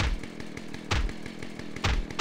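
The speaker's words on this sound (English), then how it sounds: "Why are you bringing a chainsaw when you have like guns earlier?" Chainsaw wielded in the video game GTA San Andreas, a revving buzz broken by heavy thumps and hits repeating about every second, loud and close without speech.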